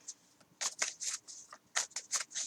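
A deck of playing cards is shuffled by hand in a series of quick riffling bursts, crisp and close, with brief pauses between them and no talking.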